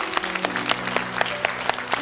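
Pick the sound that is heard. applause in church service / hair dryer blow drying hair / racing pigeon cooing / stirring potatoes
applause in church service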